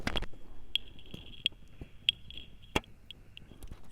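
A 9V smoke alarm overloaded at 18 volts tries to go off but can only manage faint, sharp electronic chirps. They repeat at spaced intervals, slowing down, over a low background hum.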